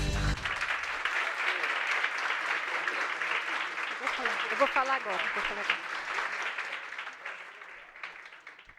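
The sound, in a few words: applause at an award ceremony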